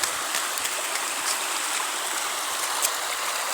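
Spring water flows steadily out from under a mountain, a close, continuous rushing and babbling with no break, loud and alone with no voices.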